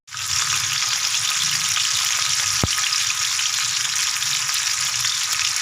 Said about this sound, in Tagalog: ginisa ko na yung aking sibuyas, bawang, luya at kamatis